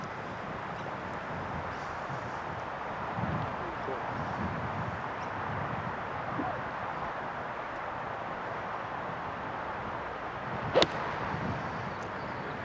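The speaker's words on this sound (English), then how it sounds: "the wind has picked up yet again. It's really starting to gust very, very strongly." Strong gusting wind sweeps across the course at the Women's Australian Open golf tournament, a constant broad rushing roar with a sharp click near the end.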